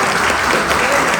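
Short burst of audience applause at a bus garage open day, dense and steady clapping from a gathered crowd, loud and close with no talking over it.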